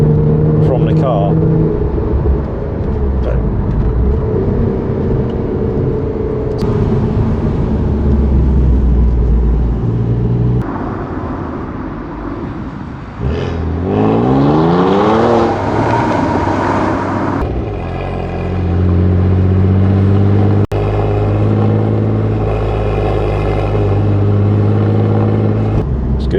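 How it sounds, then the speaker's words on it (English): A Renault Clio V6 with its mid-mounted engine, heard from inside the cabin while driving: a loud, droning exhaust note that rises and falls with revs, including a clear climbing acceleration partway through, with a voice talking over it. "Because the engine's behind you, you kind of hear the exhaust coming through the cabin."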